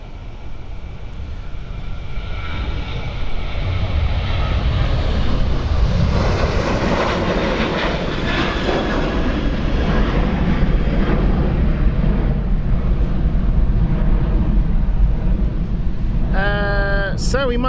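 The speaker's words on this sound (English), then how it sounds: "It was using the reverse thrust to turn there" At Stansted Airport an airliner runs reverse thrust while turning, a loud, close, sustained engine roar that swells after the first few seconds, with a voice speaking over it.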